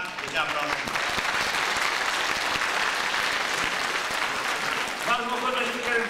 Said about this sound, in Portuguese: Eu gostava mais uma grande salva de palmas.